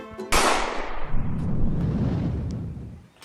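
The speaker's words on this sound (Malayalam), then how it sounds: "ഒരു വെടിശബ്ദമല്ല കേട്ടത്." A single loud bang, like a temple firecracker being set off, hits sharply and then rolls away in a long rumbling decay outdoors, with no voices.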